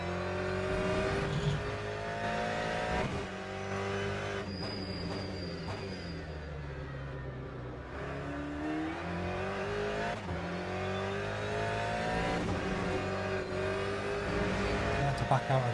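Race car engine in Le Mans Ultimate, an LMGTE car lapping Portimao, drones steadily with rising and falling revs and gear changes, loud and continuous for the whole stretch.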